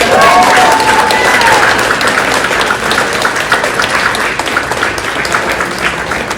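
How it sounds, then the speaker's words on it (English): A crowd at a kids' pitch event for tourism and business ideas applauds a first-place winner, with loud sustained clapping and cheering voices mixed in across the whole stretch. "I would like to give a big round of applause to our first place winner, Patience Butler."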